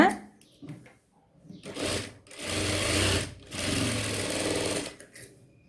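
A sewing machine stitches the shoulder seam of a kurti in short bursts, a steady mechanical whirr starting and stopping a few times, with a quiet stretch before it begins.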